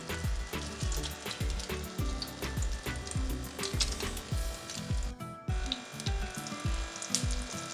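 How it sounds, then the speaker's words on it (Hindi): Vegetable kababs fry on a hot tawa, giving a steady crackling sizzle close up, broken by repeated low knocks from a utensil against the pan. "आप ये देख रहे हैं कि ये तवे पे बिल्कुल भी नहीं टूट रहे और इजीली ये फ्राई हो जाते हैं।"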